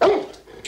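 A dog gives a single short bark at the start, then a brief quiet tail and a faint click.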